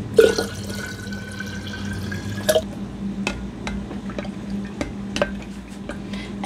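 Water is poured from a jar into homemade lemonade concentrate, giving a series of close drips, splashes and glassy clinks with brief pauses between them, and no talk.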